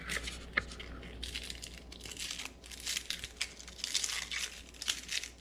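Skin being peeled by hand off a halved shallot, a run of close, dry crinkling and tearing rustles in short irregular bursts over a quiet room background, with no speech.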